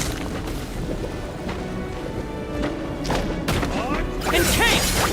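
Bombs explode in Genshin Impact as dull, heavy thuds and booms that build toward a louder crashing end, set against dense game sound, with a voice briefly present.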